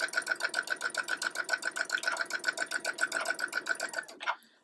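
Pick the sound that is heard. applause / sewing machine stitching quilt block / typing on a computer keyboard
sewing machine stitching quilt block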